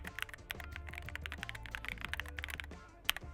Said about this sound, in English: There's no metallic ping, no hollow echo, and board feels solid and cohesive when typing.